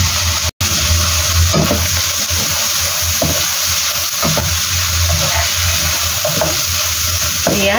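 Green peas stir-fried with mixed seafood in a hot pan, a loud continuous sizzle with occasional scraping stirs of the utensil, close and without talk.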